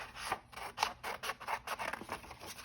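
Scissors cut paper along a folded line for a first-grade house collage, giving a quiet series of crisp snips and rasping strokes in quick, slightly uneven rhythm, close and alone.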